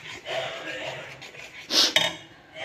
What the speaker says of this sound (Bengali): তো এটা এবার নাড়াতে হবে, লাগাতার নাড়াতে হবে